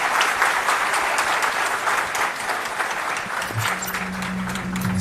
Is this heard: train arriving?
no